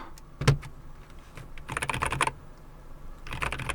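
A Logitech G512 X 75 keyboard lifted from its box and handled, giving a few close plastic clicks, taps and rustles in short separate bursts against a quiet background.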